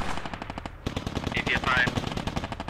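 Rapid bursts of tank coaxial machine gun fire in the Squad military video game, a steady loud rattle of shots under a few brief voice fragments.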